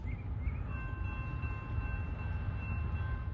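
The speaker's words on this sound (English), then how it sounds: "our I-141, the southbound intermodal train, flying through here like a shooting star at about 50 to 60 miles an hour" A southbound intermodal freight train rolls through Folkston, Georgia at about 50 to 60 mph, giving a steady, close, continuous rumble with faint high whines and no voices.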